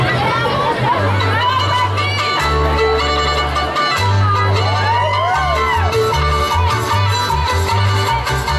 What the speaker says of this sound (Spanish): Un aplauso para el compa.